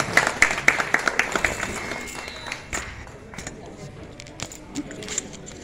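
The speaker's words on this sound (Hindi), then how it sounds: "मैं चाहता हूं कि पूरा सदन एक बार जोरदार तालियों से आपका अभिनंदन करे।" Scattered hand claps from an audience in a hall at a Holi gathering, sharp distinct claps at first that thin out into sparse, fading clapping over a murmur of voices.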